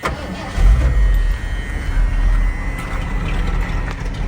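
A 1978 Ford F150 engine cranks and catches, settling into a low, rumbling idle with a few uneven surges close by, with no voices.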